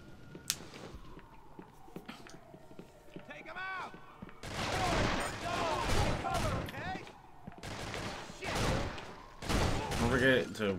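Gunfire in the video game Urban Chaos: Riot Response: sharp shots and dense bursts of automatic fire, loud and repeated over several seconds, with quieter game effects in between.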